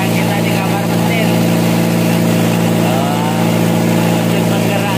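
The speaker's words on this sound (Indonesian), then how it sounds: "Mesin penggeraknya kita pakai mesin P100 ya. Jadi bekas Mitsubishi P100." Engine room of a rice-carrying motor jukung boat, its engine a reused Mitsubishi P100 car engine, running with a loud, steady, close drone and a constant hum that never lets up.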